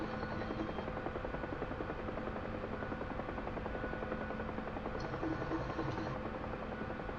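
Steady, loud drone of a Huey gunship helicopter in a flight simulation game, its rotor and engine buzz filling the whole stretch continuously with no talk over it.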